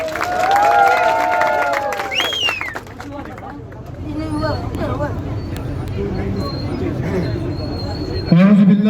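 Crowd applause and cheering rise at an outdoor political rally in Chilas, broad and sustained, mixed with crowd babble and a voice over a loudspeaker.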